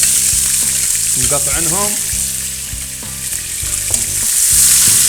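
Three chopped onions sizzle and fry in a pan for a grouper saloona stew, a loud steady crackle with stirring clatter and a brief spoken word partway through.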